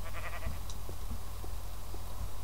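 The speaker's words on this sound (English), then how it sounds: "Hello, sheep. How are you doing?" Sheep bleats from the video game Minecraft, a few short faint calls over a steady low background hum, with no talk.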